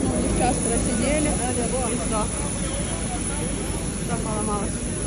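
Cabin of a passenger airplane on a delayed flight, a steady loud engine roar and air hiss fill the whole stretch, with faint voices murmuring underneath.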